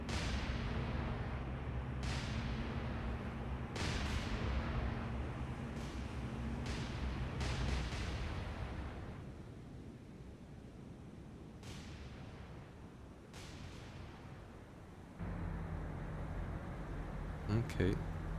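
Naval gunfire in the War on the Sea game: several heavy booming shots at irregular intervals over a continuous rumbling background, with a louder burst near the end.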